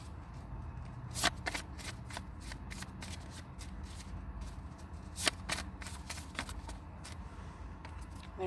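Tarot cards are shuffled by hand in a quiet room, producing repeated soft riffling flutters and sharper snaps, fairly faint and close.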